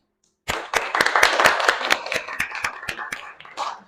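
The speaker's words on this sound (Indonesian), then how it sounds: "Mari kita beri aplaus bersama-sama." A class group applauds after a presentation, a short burst of sharp, irregular hand claps from a small group in a room, fading out after about three seconds.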